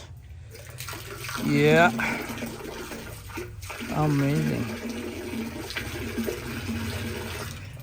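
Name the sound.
cold water running at an old mosque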